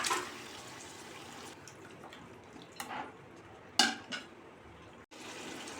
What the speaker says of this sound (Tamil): இப்போ நம்ம வேக வச்ச கறியை இதில் ஒன்றா சேர்த்து ஒரு 2 நிமிஷம் நல்லா கிளறி விட்டுடலாம்.